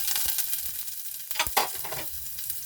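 Garlic and onion sauté in a hot pan with a close, steady sizzle, broken by a few scraping stirs of a utensil and no talk.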